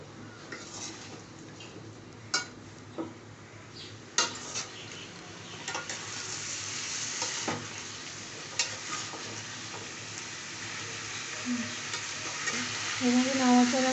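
Sabudana khichdi being stirred in a pan, with a steady soft sizzle under repeated scraping and clinking of a utensil against the metal, irregular knocks and scrapes continuing throughout.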